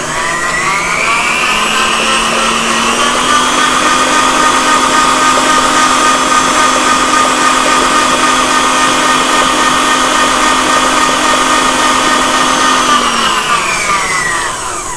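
An electric mixer beats pound cake batter in a bowl, a loud, steady motor whine that holds constant for several seconds before winding down near the end, with no voices.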